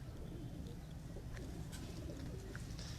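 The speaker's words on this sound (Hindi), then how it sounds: "रावलपिंडी के असल जो कबूतर हैं वो यहाँ ये कबूतर हैं जी" Rawalpindi pigeons on a rooftop loft cooing repeatedly in soft low throaty calls, faint and continuous with small scattered chirps and rustles around them.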